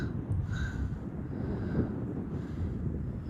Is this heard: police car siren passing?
no